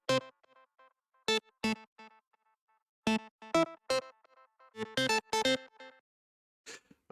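A synth melody doubled an octave below to thicken it, playing alone as short, quiet plucked notes in uneven bursts with brief pauses between phrases.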